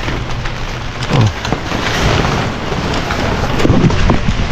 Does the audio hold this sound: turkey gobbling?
no